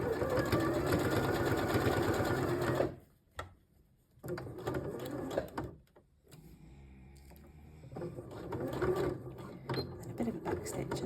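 A sewing machine stitches a tiny baby cuff in bursts: a close, rapid mechanical whirr for a few seconds, brief pauses, then further runs of stitching, with no talking over it.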